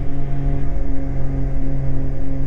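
Twin engines of a Beechcraft G58 Baron power up for takeoff, a loud, steady, deep droning roar that holds close and constant throughout.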